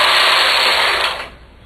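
A knitting machine carriage sweeps across a zigzag row, yarn laid between the beds: one loud, close rasping whirr lasting about a second, then cutting off to near silence.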